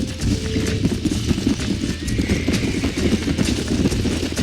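Galloping horse hooves in the Red Dead Redemption video game, a loud, continuous rapid clip-clop running throughout, with faint ambient sound behind.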